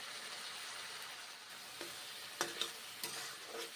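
Spiced pointed gourd (potol) with turmeric powder and salt being stirred and sautéed in a pan, giving a steady close sizzle with a few scraping stirs of the spatula, no voices.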